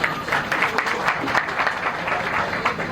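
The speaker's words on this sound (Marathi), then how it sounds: "अरे टाळ्या तरी वाजवा" Audience clapping at a Guru Purnima ceremony, a steady burst of many hands applauding together throughout, fairly loud with dense irregular claps and no talk over it.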